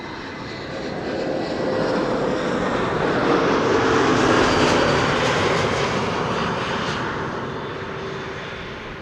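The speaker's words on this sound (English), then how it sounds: "It's a Vueling A320neo arriving from Barcelona." A Vueling Airbus A320neo lands on runway 06 at Amsterdam Schiphol, its jet roar swelling to a peak midway and then fading as it passes, loud and continuous with no voices.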